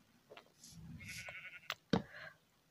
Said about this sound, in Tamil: ஒரு ஆட்டுக்குட்டி மாட்டிக்கிச்சு